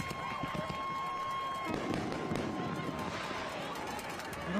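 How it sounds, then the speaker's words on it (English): Fireworks popping at a high school football game between Franklin County and Western Hills, a dense crackling of bursts spread across the stretch amid crowd noise and a steady background tone. "Were there fireworks? There are. I hear them, yes."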